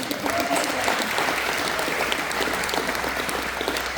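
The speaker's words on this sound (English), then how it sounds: "So give him a round of applause." Steady, dense applause from an audience at a patriotic community evening event, filling the room for several seconds at an even, sustained level with no pauses.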